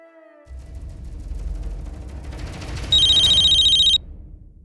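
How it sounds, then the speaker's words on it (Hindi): A telephone rings late at night, a bright electronic ring burst lasting about a second over a low background hum, fairly loud and close, with no talking. "इतनी रात को सनी दाई मुझे क्यों फोन कर रही है?"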